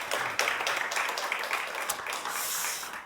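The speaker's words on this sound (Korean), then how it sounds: "우리 축복의 환영의 박수 올려드립시다." Church congregation applauding in welcome at a Korean church service in Mexico, a steady broadband patter of many hands clapping that holds fairly even for a few seconds.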